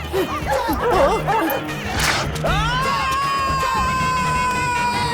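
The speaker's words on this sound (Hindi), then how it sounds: "अरे बाप रे, कुत्ते पीछे ही पड़ गए।" Dogs chasing after someone bark in a rapid, excited burst, followed by a sustained high whine-like tone over a busy, noisy background.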